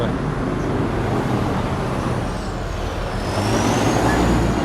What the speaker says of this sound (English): rubbish truck.